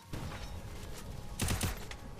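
Marksman rifle fire in the battle-royale game Free Fire, heard as a short burst of sharp, loud cracks: a couple of shots early and a tight cluster of three or four near the end.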